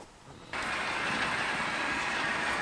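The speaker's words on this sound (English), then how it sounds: "Let's go back to running some trains." Model railway trains running on a layout at Tonleigh Bridge East Yard, a steady close rolling rumble with hiss that starts quietly and swells to a constant level after half a second, with no talking.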